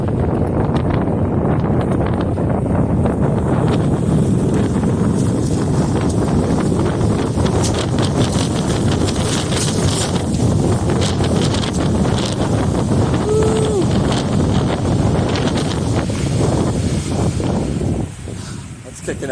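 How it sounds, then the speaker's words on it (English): Strong wind roars steadily across the microphone on a switchback mountain trail up Mount Defiance in Oregon, loud and gusty throughout, with a hiker's voice briefly heard under the buffeting. "That's windy."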